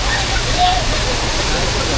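Malshej waterfall pours in a steady, loud rushing roar that fills the whole stretch without pause, heard close by at a crowded spot.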